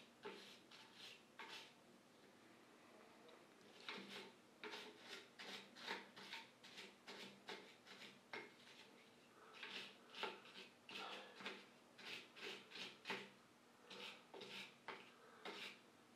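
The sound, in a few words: stainless steel brush scrubbing sewing machine metal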